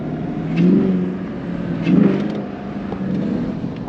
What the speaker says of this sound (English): you could definitely hear the intake now